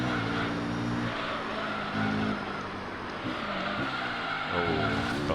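A race car slides around a track in Gran Turismo 3, its engine droning steadily with shifting pitch and a continuous tyre-scrub hiss throughout, loud and close, with no talk.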